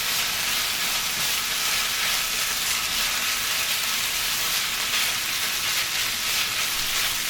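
Tomato paste and Worcestershire sauce sizzle loudly in a hot pan, a constant close crackling hiss that runs unbroken with no talking.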